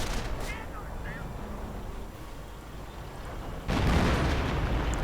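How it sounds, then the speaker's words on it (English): A Hummel self-propelled artillery piece fires in a World War II strategy video game, a heavy boom bursting in near the end over an ongoing battle din, with a voice commentating. "heavy self-propelled artillery, and it clears out one of the mortars right away"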